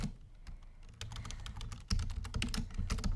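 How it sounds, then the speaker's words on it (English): Rapid clicking keystrokes on a computer keyboard while entering text into a Photoshop text layer, close and steady with irregular bursts of taps and no talk. "I can type in whatever I want"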